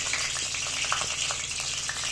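Spices (bay leaves, cinnamon, mint and cardamom) sizzle and crackle in 50 ml of oil in a pan for mutton curry, a steady close frying hiss with small pops throughout.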